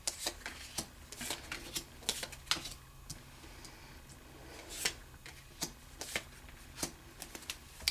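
Tarot cards are shuffled by hand at close range, giving repeated crisp riffling bursts and soft taps in an irregular rhythm, with no talking over them.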